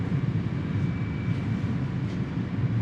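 A passenger train, the Matarmaja, starts to depart. A steady low rumble fills the background with a thin constant whine above it, even and moderate in level throughout.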